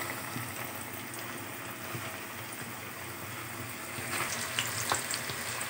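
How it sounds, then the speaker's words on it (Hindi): Chicken wings fry in hot oil with a dense, even hiss of bubbling fat that stays close and constant. A few sharper crackles and pops come near the end. "हमारे विंग्स फ्राई हो रहे हैं।"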